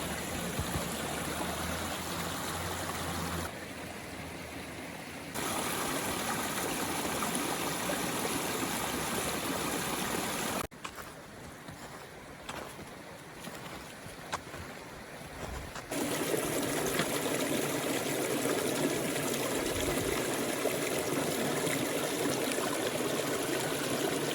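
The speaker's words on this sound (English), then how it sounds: "Now we have a creek that we need to cross." A creek in Manistee National Forest flows steadily with a continuous trickling, gurgling wash that dips quieter in the middle and then swells louder near the end.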